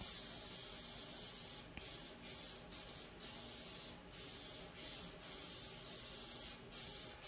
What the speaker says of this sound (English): I'm putting this stuff on with a spray can